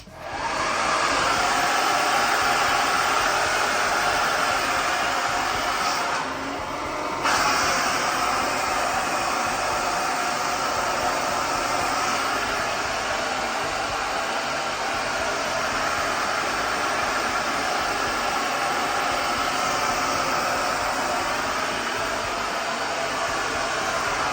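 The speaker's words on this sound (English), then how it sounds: "I'm gonna be using this blow dryer, and it's gonna be marvelous." A blow dryer runs loud and steady for the whole stretch, a continuous airy roar with a brief dip near the middle.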